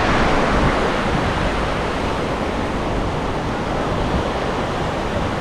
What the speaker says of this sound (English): You can see the surf gets a little bit larger